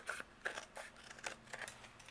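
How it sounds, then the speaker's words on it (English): Scissors snip away overhanging card paper on a handmade greeting card in a series of quick, quiet, close cuts at a steady rhythm. "I'm going to flip this over and trim away what's overhanging."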